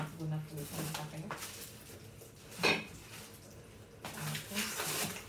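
Metal pot lids and cookware clinking and clattering in short bursts as the pieces are handled in a kitchen, with someone talking between and over the clanks.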